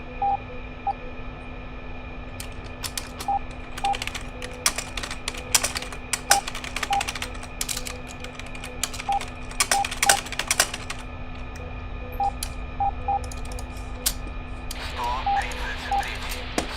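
Steady, close keyboard typing in a fighter cockpit setting, rapid clicking taps scattered across the clip over a constant engine and radio hum, with a short burst of louder keying near the end.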